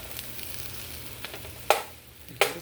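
A veggie omelet fries in butter in a pan, giving a steady soft sizzle close by, broken by two sharp clacks of utensils against the pan.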